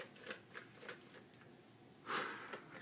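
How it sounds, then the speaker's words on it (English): A baby taps at a computer keyboard, producing faint, irregular clicking keystrokes in quick scattered bursts, with soft breathing and rustling nearby and a brief louder shuffle partway through. "What are you typing there?"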